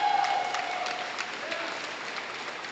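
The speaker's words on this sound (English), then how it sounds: "Would you please give a round of applause for Bentonville High School Athletic Hall of Honor inductee, Eric Ragsdale." An audience applauds a Hall of Honor inductee at a high school athletic ceremony, continuous crowd clapping that is slightly louder at the start and then holds steady in a large room.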